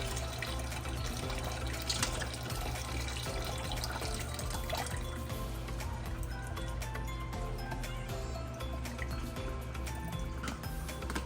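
Water drains steadily from a pot of boiled seafood, likely crab and shrimp, a continuous close splashing rush with no talking.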